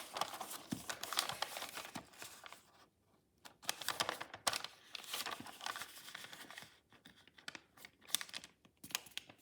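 Origami paper being creased and folded for a dragon model, giving soft, close crinkling and rustling in short bursts with brief pauses between.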